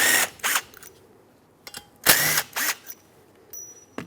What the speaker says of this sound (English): with a 12mm socket this time, not a 10 like on the original, remove the 2 slider pin bolts